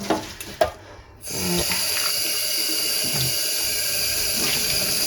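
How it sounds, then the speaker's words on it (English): Dyed yarn rinsed under a running tap, the water starting after a few soft handling knocks and then pouring steadily and close for the rest of the time, with no talking. "So I'm just going to rinse this through and then I can hang it up to dry."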